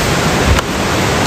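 River water rushes continuously in a broad, loud, steady roar at a mountain river site in Masinloc, Zambales.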